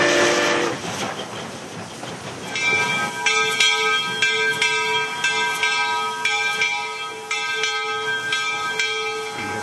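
Historic steam locomotive 2719, built in 1923, runs past as its bell rings repeatedly over a steady rumble of rolling wheels, loud and close.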